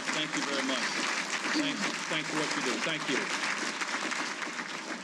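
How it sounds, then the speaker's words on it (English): Steady audience applause fills a Hall of Fame ceremony hall, dense and sustained throughout, with someone speaking over the clapping. "Please give these ladies and gentlemen a round of applause"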